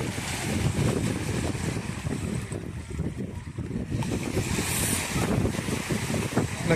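Surf rolls in at Barreiro Beach near Lisbon under strong wind, with a ship offshore. A dense, continuous wash of water and gusty microphone rumble, swelling briefly midway, with no talking.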